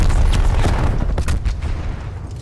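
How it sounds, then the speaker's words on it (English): A nuke detonating in Call of Duty: Black Ops Cold War, a loud, sustained low rumble with crackling blasts and scattered bangs that rolls on and slowly fades over a couple of seconds. "they dropped another nuke"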